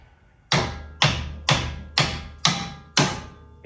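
Six evenly spaced metallic hammer blows, each a sharp strike with a ringing decay, struck left-handed while replacing a CV axle on a Dodge Durango, close and clear with a low background hum.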